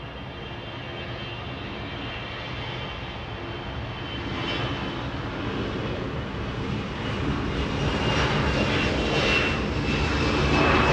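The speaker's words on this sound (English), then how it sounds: "Delta Airlines getting a move on, flying to Kansas City. That's an A320." A Delta Airlines Airbus A320 roars on takeoff at Los Angeles International Airport, a loud continuous jet rumble and whine that slowly builds and grows nearer, with no voices.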